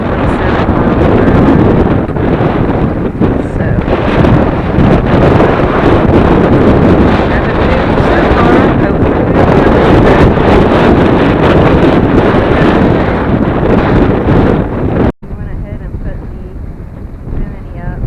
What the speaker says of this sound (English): It's going to be blowing 32 miles per hour sustained winds and 50 mile per hour gusts.